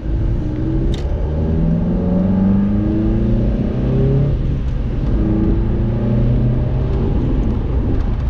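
A Mazda MX-5 accelerates hard along an open road, its engine note climbing through the revs in repeated rising sweeps, close and loud over steady road rumble and wind.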